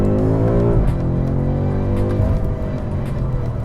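BMW M5 Competition under hard acceleration, a loud, close engine note climbing steadily in pitch through the gear, with a brief dip at a shift before rising again.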